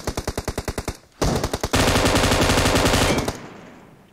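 M249 machine gun fire in Battlegrounds Mobile India, starting as a string of about ten rapid evenly spaced shots, pausing briefly, then breaking into a long loud sustained automatic burst that fades out.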